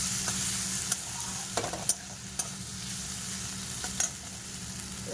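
Ginger paste and spices fry in a pan, giving a steady, close sizzle throughout, broken by a few sharp scrapes and taps as the mixture is stirred.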